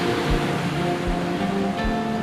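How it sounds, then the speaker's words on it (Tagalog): Gentle surf washing in steadily on a beach at a camp in General Nakar, Quezon, a soft continuous rush of water with faint low thumps; no one speaks. "sinasabayan pa nung tunog ng alon"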